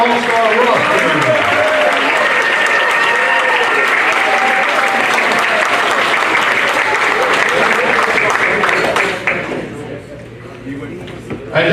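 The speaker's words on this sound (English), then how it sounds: "let's give one round of applause for the USA All-Star roster" Sustained applause from a banquet audience honoring a U15 All-Star soccer roster, steady and loud for most of the stretch before thinning out near the end.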